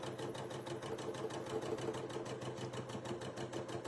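A sewing machine stitches a foundation paper pieced quilt block, its needle running in a fast, steady mechanical rhythm close by for the full few seconds.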